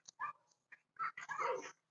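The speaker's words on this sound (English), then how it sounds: "Don't worry, the dogs are not attacking each other. They're just getting excited." Excited dogs bark and whimper in short, close bursts with brief pauses between them. The sounds are sharp and fairly loud, set in a workshop beside a 1956 Ford milk truck, and no one speaks.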